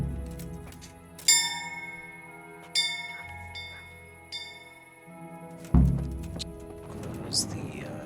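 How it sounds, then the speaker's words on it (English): A bell rings in a medieval town in Kingdom Come Deliverance, four separate clangs spaced a couple of seconds apart with long ringing decay, over quiet ambient game sound. "Oh, this is the bell, of course"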